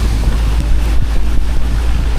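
A fiberglass fishing boat heads out to the fishing grounds over rolling waves, with a heavy low rumble, wind buffeting the microphone and water washing against the hull.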